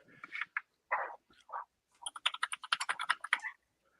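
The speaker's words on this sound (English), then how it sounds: "I'm going to do some typing." Fast typing on a computer keyboard up close, a few isolated key taps followed by a quick, busy burst of clicking keystrokes in a quiet room.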